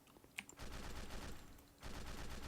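Rapid AK rifle gunfire from a tabletop sim video game rattles in two dense automatic bursts separated by a short lull, clear and close with no voices.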